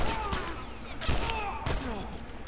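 Enemy gunfire in The Last of Us video game: several quick bursts of shots over a dense game soundscape, fairly close and loud, with no talk over them.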